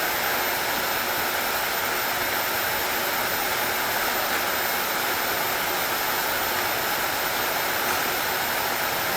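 A forge melting aluminum cans roars steadily and loudly, a constant broad rushing blast that neither pauses nor varies in level.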